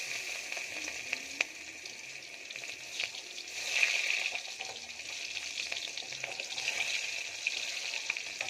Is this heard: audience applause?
no